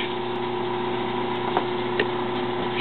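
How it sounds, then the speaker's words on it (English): A small AC induction motor runs on mains power with a steady, loud electrical hum and whine, constant tone with faint clicks, close up and without talk. "the AC power supply and the motor starts spinning now"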